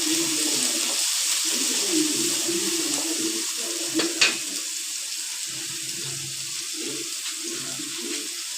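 Onions, green chillies and curry leaves sauté in a pan, giving a steady broadband sizzle and hiss with soft scraping and a brief clink partway through.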